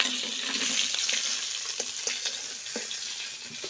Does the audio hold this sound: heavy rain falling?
no